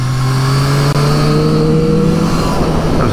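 Triumph Street Triple 765R revving hard, a loud, continuous engine roar with induction noise whose pitch climbs steadily over a few seconds, close and without speech.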